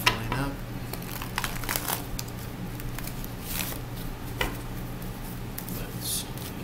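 Tarot cards being shuffled by hand at close range, giving soft crinkling and papery patter in scattered bursts over a low background hum, with no talk.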